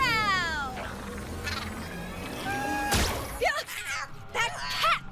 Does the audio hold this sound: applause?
no